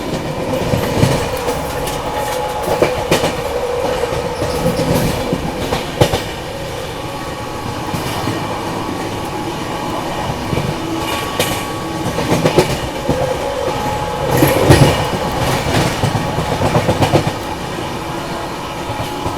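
Humsafar Express train running at speed while overtaking the Prayagraj Express, with steady rolling rumble, rhythmic wheel clatter and occasional louder swells from passing carriages throughout.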